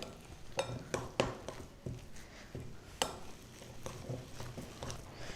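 Falafel ingredients for Indian-style wraps are mixed in a bowl, giving irregular clinks and scrapes of a utensil against the dish, close and fairly soft, with no talk.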